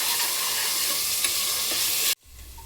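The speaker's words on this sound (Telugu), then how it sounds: "బాగా అల్లం వెల్లుల్లి పేస్ట్ పచ్చివాసన పోయేంత వరకు బాగా ఫ్రై చేసుకున్నాం" Ginger garlic paste fries with onions in a pan for mutton dum biryani, producing a loud, continuous close sizzle that cuts off abruptly near the end, leaving a quieter background hum.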